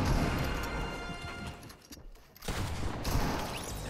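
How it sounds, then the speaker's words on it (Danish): Gunfire from a shotgun in the Fortnite video game: loud, sharp blasts and crashing impacts fill the first seconds, then a brief lull and another burst of shots. "Jeg rammer ingenting med den her shotgun i dag."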